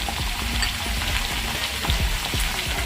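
Sliced ivy gourd (dondakaya) frying in a pan with turmeric and salt, giving a steady, close, dense sizzle with small crackles and pops throughout and no voices.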